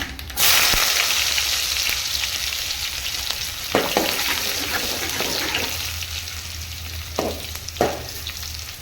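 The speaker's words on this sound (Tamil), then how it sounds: "நம்ம இடிச்சு வச்ச பூண்டு சேர்த்துக்கலாம்" Crushed garlic frying in hot oil, a loud steady sizzle broken by a few sharp spits and crackles, with no voices.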